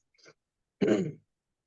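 A short breathy sound, then a single brief throat-clearing cough from someone with hay fever, close by and otherwise quiet.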